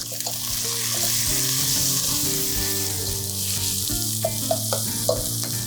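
Sliced onions frying with salt in a pan, a steady close sizzle throughout with occasional stirring clatter and small pops.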